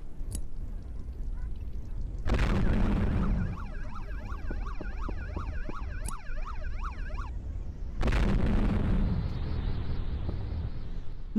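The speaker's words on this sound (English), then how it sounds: "don't use more than 6 grenades to kill all the dummies" Two booming grenade blasts in the mobile game Payback 2 land a few seconds apart, each a loud broad burst that fades into rumble. A warbling siren wails between them.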